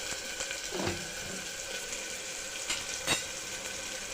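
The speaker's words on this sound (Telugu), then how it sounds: "కరివేపాకు ఇవి కూడా లైట్గా ఫ్రై చేసుకోవాలి." Curry leaves frying lightly in a pan while cooking dal for mango pickle rice, a soft steady sizzle with a few sharp crackles and pops, faint and close.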